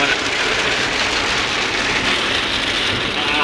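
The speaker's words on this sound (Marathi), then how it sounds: "अरे पाऊस एवढा पडतोय ते दाखवायला नको का." Heavy rain pours down at Ganpatipule, a dense, even hiss of drops hitting surfaces nearby that holds steady throughout.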